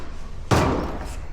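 A junk drawer in a tool box opens with a single sharp metallic slam-like clunk, followed by a short rattling decay.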